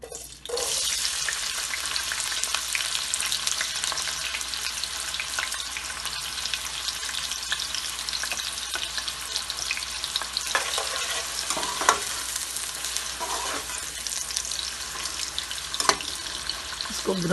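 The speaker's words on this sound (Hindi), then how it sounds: "प्याज डालेंगे।" Chopped onions sizzle in hot oil for a kalonji chicken curry as a spoon stirs and scrapes through the pan, a steady close crackle with occasional clinks throughout.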